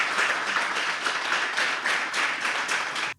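A studio audience at a Beninese national news broadcast breaks into sustained applause, dense overlapping claps holding steady at a fairly loud level before cutting off abruptly at the end.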